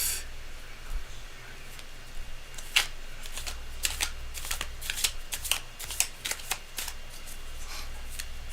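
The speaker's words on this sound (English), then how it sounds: "Now I have to shuffle again." A deck of tarot cards shuffled by hand during a live reading, a steady series of sharp, crisp card snaps and riffles, close and quiet, with no speech over them.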